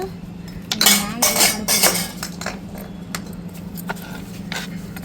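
A metal lid pressed down through the middle of a slice of bread, producing a cluster of clinking, scraping metallic knocks against a plate, then scattered lighter taps over a steady low hum, near and without speech.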